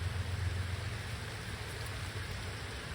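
Rain falling outdoors near a beehive, a steady dense hiss of drops with a low rumble underneath, constant and fairly faint throughout.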